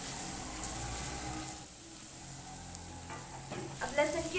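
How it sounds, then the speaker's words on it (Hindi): Ginger garlic paste frying and stirred with onions in a pan, a soft steady sizzle with a few clicks of stirring near the end, fairly quiet and without talk. "अब मैं 1 टीस्पून अदरक लहसुन का पेस्ट डाल दूंगी।"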